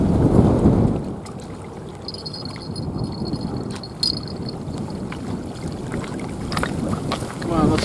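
Strong wind buffeting a microphone on a riverbank during spring carp fishing, a loud rumbling roar that swells at the start, eases, and keeps gusting throughout.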